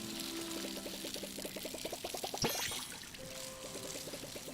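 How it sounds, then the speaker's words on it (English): Soft trickling water pours onto a plant in the Palia video game, a quiet steady stream with faint pulsing game music underneath and a brief brighter splash partway through. "the water's falling onto the plant"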